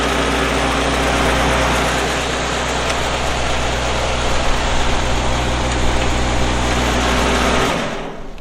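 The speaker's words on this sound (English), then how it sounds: "It's my bag feeder." Engine-driven compost bag feeder running on a farm, a steady loud mechanical drone with a rattling, buzzing texture that cuts off near the end, no talking.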